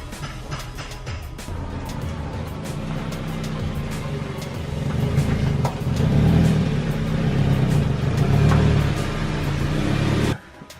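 Honda Prelude engine, loud from the start, rising into a revving surge after the middle before cutting off at the end, no voices.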